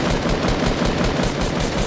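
Rapid turret gunfire hammering at a base in Fortnite, a dense continuous burst of loud repeated shots with steady rhythm and no pauses, filling the whole stretch.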